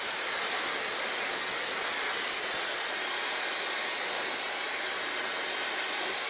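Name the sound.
hair dryer blow-drying hair with head flipped over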